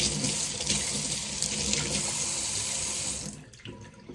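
A tap runs steadily into a sink for hand washing, a constant broad rush of water that drops away near the end as the flow is cut.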